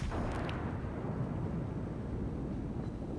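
Heavy battleship guns fire shells in the naval video game World of Warships, a deep rumbling boom with a rolling low roar that fades over a few seconds.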